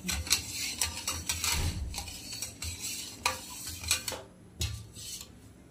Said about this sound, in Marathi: एक वाटी साखर हे ना मस्त असं हलवून घेऊयात